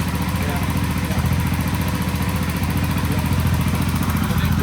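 The single engine of a 1967 Sears Super 12 garden tractor, fitted with a new muffler, runs loud and steady close by with a rapid even throb, and people talk over it.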